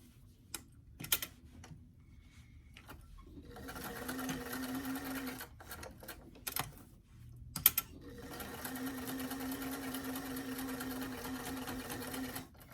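A sewing machine runs in two long bursts, stitching a narrow seam around the edge of a garment pocket, with a steady whirring hum, brief pauses and small clicks between runs.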